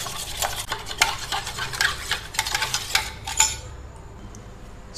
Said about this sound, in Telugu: దీని మొత్తాన్ని బాగా బీట్ చేసుకోవాలి.